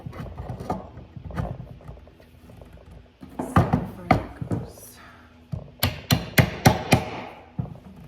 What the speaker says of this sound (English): So I'll get a punch and knock this back out.